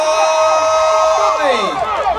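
At Jamaica's 2019 Seville Emancipation Jubilee night celebration, a large crowd cheers with rising whoops and shouts that swell loudly over a continuous background din.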